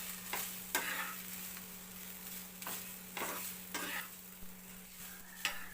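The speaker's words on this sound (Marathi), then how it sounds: "आपल्याला भेंडी फ्राय बनवण्यासाठी सर्वात पहिलं आपल्याला भेंडी ही भाजून घ्यायची आहे" Okra being pan-fried as bhindi fry sizzles steadily while a spoon stirs it in short scraping bursts, each stroke a little louder than the constant hiss, with no one talking.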